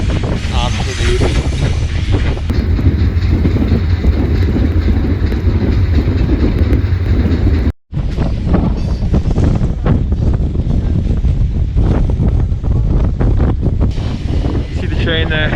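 Riding on an iron ore freight train through the Sahara in Mauritania: loud continuous rumble and rattle of the wagons mixed with heavy wind buffeting the microphone, with a brief dropout midway.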